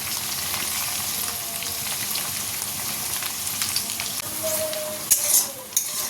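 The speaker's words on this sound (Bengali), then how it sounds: "এই যে দেখো পেঁয়াজটা ভালো করে ভেজে নিয়েছি" Onion and green chili fried in hot oil with shrimp, producing a continuous close sizzle with light stirring and a couple of sharper spatula clatters near the end.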